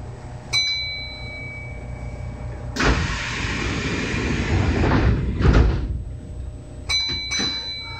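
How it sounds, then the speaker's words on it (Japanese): Sliding doors close on a Kintetsu 6620 series local train on the Minami Osaka Line, bound for Osaka Abenobashi: a chime sounds, then a loud rushing slide ends in a firm thud, and further chimes follow. "扉が閉まります。"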